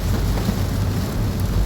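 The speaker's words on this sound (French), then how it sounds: "Ah oui là oui on a de la grêle." Hail pelting a car during a supercell thunderstorm, a dense steady rattle of impacts on the bodywork with a low rumbling undertone, loud and close, no voices.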